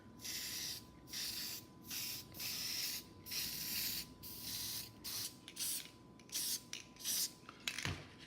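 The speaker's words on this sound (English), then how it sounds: "We want to spray. We don't want to overspray" Repeated short hissing bursts from an aerosol adhesive spray can, about a dozen sprays in a loose rhythm, getting quicker and choppier toward the end.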